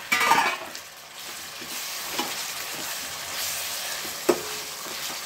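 A fish curry masala with tomatoes fries in a pan, giving a continuous close, even sizzle with a few soft knocks from stirring and no talking.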